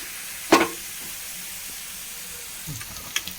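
Soft steady sizzle of snake gourd stir-fry simmering uncovered in a pan, with a sharp clink of a utensil early on and a few light stirring scrapes later.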